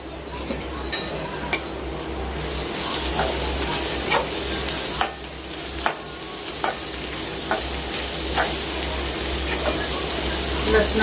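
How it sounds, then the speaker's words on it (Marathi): Cumin and garlic paste sizzles in hot oil for an okra dish, a constant bright frying hiss broken by periodic clicks and scrapes of a spoon stirring in the pan. "तर मी जिरं आणि लसूणची पेस्ट बनवलेली होती ती घालून घेऊया."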